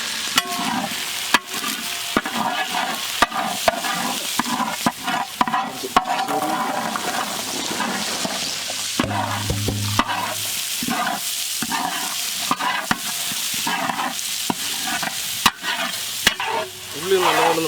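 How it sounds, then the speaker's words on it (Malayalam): Shallots sautéing with curry leaves for a fish curry, loud continuous sizzling in the pan with repeated scraping stirs and spoon knocks throughout. "ഉള്ളി നല്ലപോലെ ഒന്ന് വാടി തരും"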